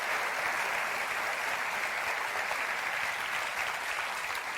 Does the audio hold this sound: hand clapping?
yes